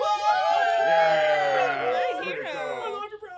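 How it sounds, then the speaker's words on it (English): A cartoon crowd cheers for a confused brown bear, with bright overlapping voices rising together for about two seconds before thinning out into scattered chatter and chuckles. "The brown bear, a bit confused, turns to the crowd and everyone cheers."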